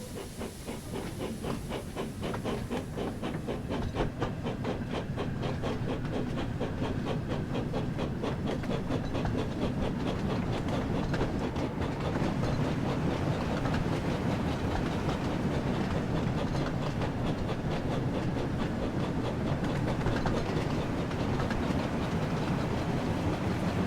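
A red steam engine from a Thomas and Friends video game runs steadily along the track, its rhythmic chuffing and clickety-clack holding at an even, fairly loud level throughout with no voices.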